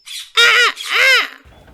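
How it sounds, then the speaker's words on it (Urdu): A parrot gives two loud, harsh screeches in quick succession, close and alone, followed by a brief faint rustle. "طوطا چیخا"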